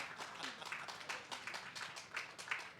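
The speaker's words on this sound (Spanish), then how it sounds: "Pido un aplauso para los dos ponentes de este libro." An audience at a book presentation applauds its two speakers, a short burst of lively clapping from a modest crowd, with voices mixed in.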